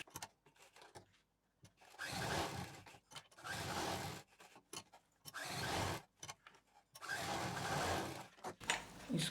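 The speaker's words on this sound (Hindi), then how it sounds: "दूसरे पार्ट को यहाँ पर हम सिल देंगे।" A sewing machine stitches Velcro onto a fabric organiser for undergarments and jewellery, running in several bursts of steady mechanical whirring with short pauses between them, close up and with no talk.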